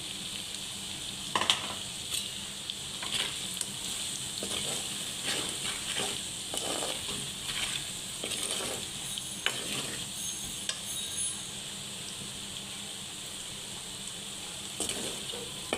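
Chili powder sizzles in hot oil in a pan while chicken pickle fries, a steady crackling hiss with scattered sharper pops and stirring scrapes throughout, fairly close and with no talking.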